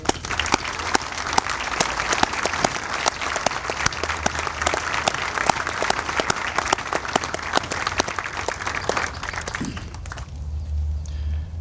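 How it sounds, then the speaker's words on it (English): An audience at an Army garrison change of command ceremony at Fort Bliss gives a steady, sustained round of applause, moderately distant, that stops abruptly near the end, leaving low rumble. "Please join me in giving all of these great Americans a round of applause"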